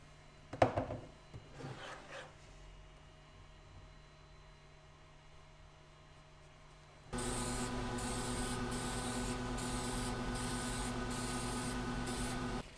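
Primer is sprayed onto an R2-D2 dome, a steady close hiss that starts partway through after a few soft handling knocks and runs on without a break to the end.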